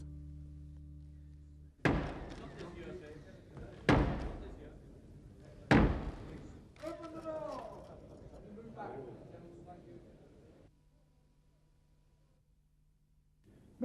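Heavy doors in the House of Commons thud shut on the Queen's messenger, three loud slams echoing in a large hall, followed by quieter clunks and rattles, then fading to a low hum.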